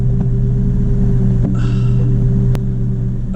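A Porsche 911 (996) engine idles steadily just after starting, a close, continuous low rumble with a constant hum and one brief tick partway through.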